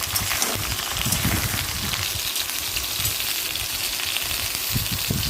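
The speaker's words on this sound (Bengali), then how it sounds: "ওই তেলের মধ্যে পটলগুলো ভেজে নিচ্ছি।" Pointed gourd (potol) fries in hot oil, a dense, loud, continuous sizzle and crackle held close throughout with no talk.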